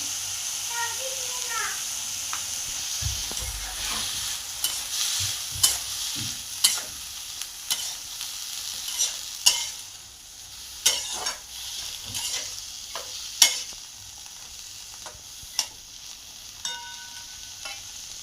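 Washed cabbage being stirred and fried in a pan, with a steady sizzle and repeated sharp spatula scrapes and knocks throughout, plus a few brief background noises.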